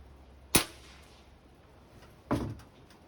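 Two sharp cracks from a Seneca Dragonfly multi-pump air rifle fired at a 25-foot target, the first crisp and near, the second about two seconds later and slightly duller, with quiet between them.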